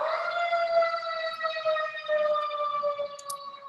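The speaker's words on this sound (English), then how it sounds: "Even the universe is giving you guys a siren to alert you to the goodness that just came out." A wailing siren sustained throughout, with steady stacked harmonic tones sliding slowly downward, fairly loud and continuous with no talk over it.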